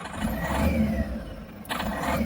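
A Tata Magic van engine with a misfire problem and check engine light on runs unevenly with a steady low rumble and a rough, uneven idle, close by and fairly loud, with no talking.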